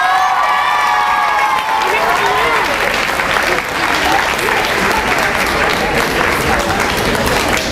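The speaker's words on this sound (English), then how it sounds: "We can give a round of applause to Mrs. Harrison's fifth grade class." A crowd at a school graduation gives a loud, sustained round of applause for a fifth grade class, with cheering and voices mixed into the clapping throughout.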